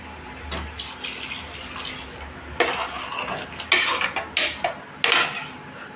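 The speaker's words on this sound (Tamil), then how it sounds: "நான் டம்ளர் தண்ணி ஊற்றிட்டேன்." Water poured into a cooking pot while making a Tamil drumstick pori kuzhambu, heard as close, splashing kitchen sounds with clinks of utensils, growing louder in bursts toward the end.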